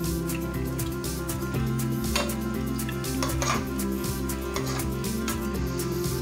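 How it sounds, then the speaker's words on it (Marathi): Dough balls frying in hot ghee over a low flame for a homemade sweet, a steady close sizzle with occasional utensil clinks against the pan throughout, no voices. "आता आपल्याला हे लहान आचेवर तळून घ्यायचं आहे"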